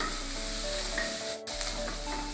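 Onions frying with masala in a pan, a steady close sizzle running throughout with a brief drop near the middle, no voices.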